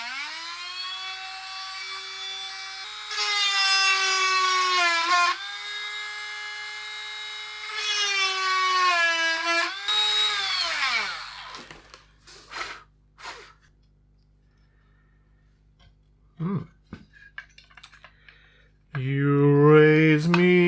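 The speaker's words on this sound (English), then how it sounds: "Gonna have to make these holes slightly larger to accept the screws." Small power tool enlarging screw holes in the standoffs of a dead SNES Mini console case. Two long, close, high-pitched whining bursts rise and fall in pitch, followed by scattered clicks and a short burst of a voice at the end.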